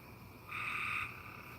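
Frogs croak at night in a single sustained, buzzing chorus that swells for about half a second, mid-distance and moderately loud over a steady background hum, with no voices.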